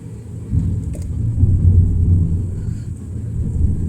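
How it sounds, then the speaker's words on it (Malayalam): Deep, rumbling thunder rolls continuously, loud and low, with no voices over it. "ഇവിടെ നല്ല ഇടിവെട്ടാണ്."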